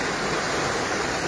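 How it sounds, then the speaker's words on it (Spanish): A swollen river rushing after heavy rains in El Salvador, a dense, steady roar of churning water, loud and close with no breaks and no voices. "Así de que ahorita este río viene creciendo."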